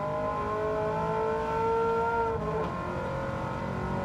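M6 Group 3 race car in Gran Turismo 7, engine held at a high, steady rev with layered harmonic whine, then a brief drop and shift around the middle before the drone resumes, loud and close with no talk.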